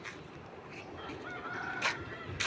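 Domestic ducks call outdoors near a garden, giving a few honking, nasal cries over a low background hum, with a couple of louder calls toward the end.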